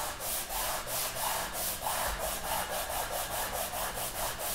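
Wood is sanded by hand with sandpaper, making a continuous, even back-and-forth scratching rhythm, close and fairly loud, with no voices.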